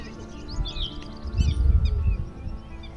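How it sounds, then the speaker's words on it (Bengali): Birds and a peacock calling by the Kosi river in the Jim Corbett area, scattered high chirps and whistles at moderate distance over a low outdoor rumble. "পাখি এবং ময়ূর দুটোরই কিন্তু শব্দ পাওয়া যাচ্ছে"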